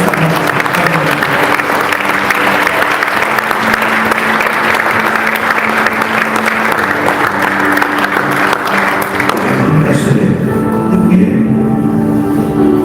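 A church congregation at a revival service in Toronto claps loudly and steadily, a dense sustained roar of applause filling the whole stretch with a few voices mixed in.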